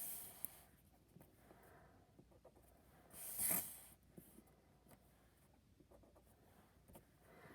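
Pencil marking short strokes on paper while drawing parabolic curves, with faint scratchy taps spread through the quiet, one louder brushing scrape in the middle.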